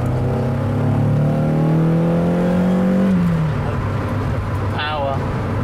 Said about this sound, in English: I love the honk from the intake